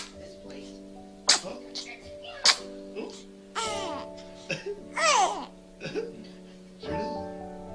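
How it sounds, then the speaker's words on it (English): A baby makes a few small sneezes and hiccup-like bursts mixed with squeals and babbling, close and fairly loud over a steady background hum. "You have to sneeze, baby."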